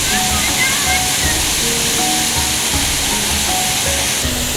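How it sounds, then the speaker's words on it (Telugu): Constant rushing water from an artificial waterfall in Singapore's Botanic Gardens, a loud steady hiss and splash with faint voices underneath. "ఇవి నేచురల్ జలపాతాలు ఏం కావు ఇవి"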